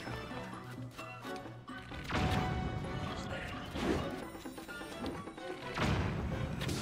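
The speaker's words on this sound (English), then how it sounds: "Who is sending explosions?" Repeated heavy crashing blasts from explosions in the video game Zelda Tears of the Kingdom, three bursts spaced a couple of seconds apart over a busy layer of game sound.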